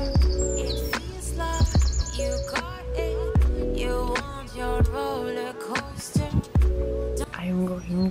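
A forest-sounds playlist plays from a phone in a bedroom, with steady chirping and tweeting bird calls layered over a dense, continuous background for the whole stretch.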